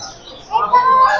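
Caged birds at a pet market in Pasay chirp in short, bright calls. The calls rise near the end of the brief stretch and mix with background voices and market chatter.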